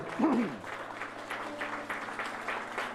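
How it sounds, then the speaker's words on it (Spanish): A church congregation claps for the Lord during a worship service, a steady wash of many hands filling the room after a brief sung or spoken voice at the start. "Le damos un aplauso al Señor"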